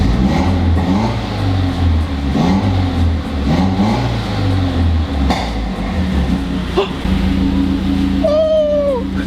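A big-turbo Mazdaspeed 3 engine starts and is revved repeatedly, loud and close, with rising and falling pulls and a high whistle near the end.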